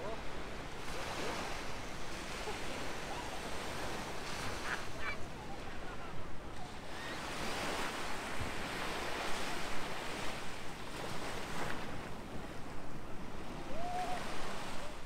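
Surf washing steadily onto a beach shore in Guernsey, a continuous broadband roar with gentle swells, heard near and fairly loud with a little wind, no talk.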